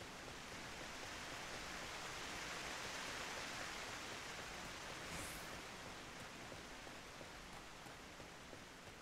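A waterfall in the game Final Fantasy XIV rushes as a constant, broad, hissing wash of falling water, even and unbroken throughout, with a brief brighter swish midway and no voices.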